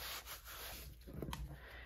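Sandpaper rubbing over a dried, textured paint surface on a mixed-media art piece, a steady close scratching with brief louder strokes partway through, no voices.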